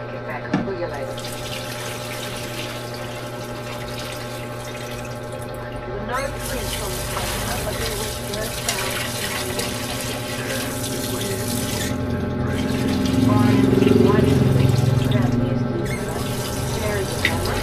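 Tap water runs steadily into a sink as pork bones are rinsed for sinigang, a continuous splashing wash with a brief drop-off midway and louder sloshing later, a voice speaking now and then over it.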